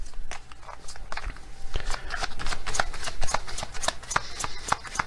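Oracle cards being shuffled by hand: a close series of crisp, rapid riffling and slapping bursts in an irregular rhythm, heard alone without talking.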